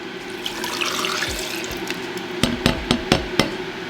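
Liquid pours into a blender and splashes briefly, followed by several sharp knocks or taps in quick succession near the microphone.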